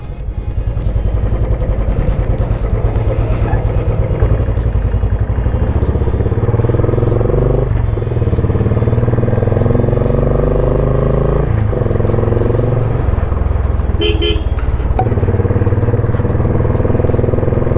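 A motorcycle ride on the way to Jog Falls carries a continuous mid-pitched engine drone with wind and road noise, with a few knocks and clatters along the way and the revs shifting now and then.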